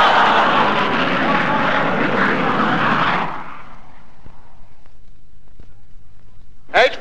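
Roaring jet engine of a vertical takeoff plane in a 1960 comedy record, loud and sustained for about three seconds before abruptly cutting away into a faint, quiet tail, with a brief burst near the end.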